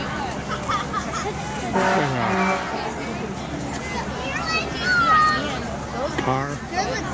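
At a winter festival, a car passes amid a crowd with people talking nearby, its engine and tire noise rising and falling under steady chatter and babble.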